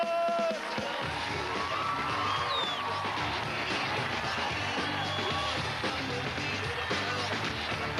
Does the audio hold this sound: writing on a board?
no